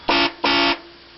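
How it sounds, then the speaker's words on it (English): Car horns mounted on a Craftsman racing riding mower give two loud, close blasts in quick succession, a short one then a longer one, with a blaring train-horn-like tone and no talk over them. "So it kind of sounds like a train horn, believe it or not."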